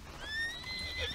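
Horse neighing in the Red Dead Redemption video game, a single drawn-out whinny with rising and falling tonal harmonics over faint background noise, close and fairly loud, no talk.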